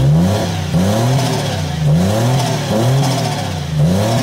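A Toyota 1JZ engine in a Nissan S14 street car revs loudly and repeatedly in rising and falling surges, running rough as if the timing is off, with no talk over it.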